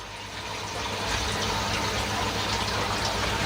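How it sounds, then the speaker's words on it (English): River water gushing back through an RDF filter, a steady broadband rush that swells after the first second and holds level and close, with no talk. "Yep, the flow's coming back from the river."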